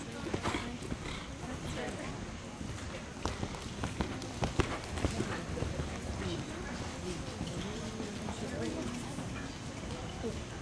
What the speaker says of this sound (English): Canter. Canter your horses, please. Canter.